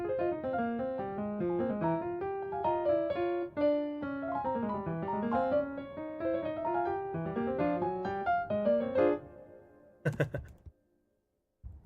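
A synthesizer plays a winding, busy melody from MIDI notes drawn as a Batman logo over sustained chords for about ten seconds, then a few sharp noisy bursts end it before silence.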